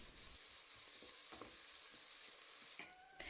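Onions with green chillies and salt frying in a pan, a steady soft sizzle with a few faint stirring knocks and scrapes, close and fairly quiet, no voices.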